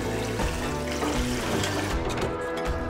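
Water runs and splashes steadily while a cow milking machine is being rinsed and cleaned, with a few brief clatters and knocks mixed into the close, continuous flow.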